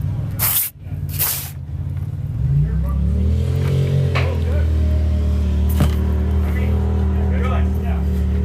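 Stock mod and comp race trucks roar over jumps at the High Desert 100 in Powell, Wyoming, their engines revving and climbing in pitch as two trucks pass fairly close, loud and sustained.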